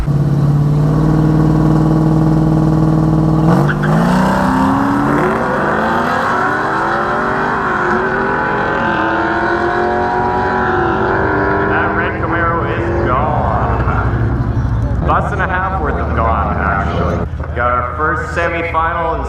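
Drag race cars at a no-prep shootout grudge race, engines roaring loudly and rising in pitch as they launch and pull away, with an announcer talking over the noise.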